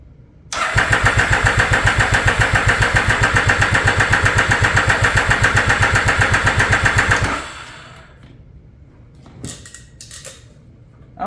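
A Yamaha Raptor ATV fitted with a swapped 1050cc engine cranks over on the starter for about seven seconds, a loud, steady rhythmic churning that never catches, then cuts off, leaving a few faint clicks and rustles.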